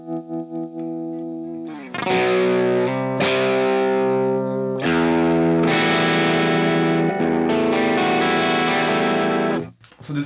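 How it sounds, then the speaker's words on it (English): A Fender Telecaster Mexican Standard electric guitar plays through effects with distortion and chorus, starting with a sustained chord and then loud strummed chords struck several times, ringing out with a thick, processed tone and no talking. "So this guitar sounds great."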